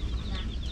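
Chickens and week-old chicks on a small farm, with quick high-pitched peeping and clucking close by and a faint voice in the background.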